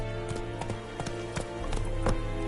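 Roach the horse in The Witcher, hooves clip-clopping in a quick, even rhythm of crisp close hoofbeats over a steady background hum.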